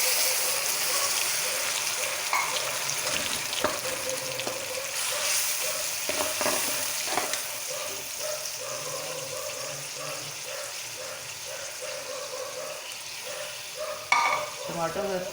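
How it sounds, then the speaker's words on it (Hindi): Tomato paste sizzles and fries in a pan with chicken and bhindi (okra), a steady crackling hiss with occasional stirring scrapes and a sharper clatter near the end. "अब हम इसमें डालेंगे 3 अदद टमाटो का पेस्ट"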